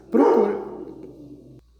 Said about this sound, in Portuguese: Cachorra latindo aqui.